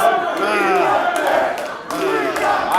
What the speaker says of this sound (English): The crowd is hot for this one.